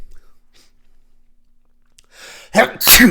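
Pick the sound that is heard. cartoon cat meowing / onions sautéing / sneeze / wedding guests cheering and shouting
sneeze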